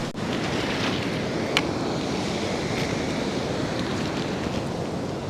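Rough sea waves churned up by Cyclone Montha near Antarvedi lighthouse make a loud, unbroken roar, mixed with gusty wind buffeting the microphone.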